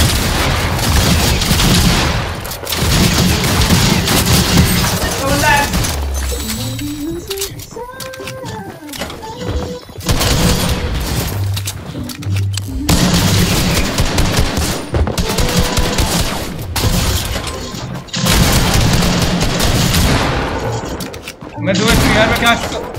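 Rapid bursts of gunfire from the video game Fortnite, loud and dense, mixed with game effects and a boom, while a player talks excitedly over the action throughout.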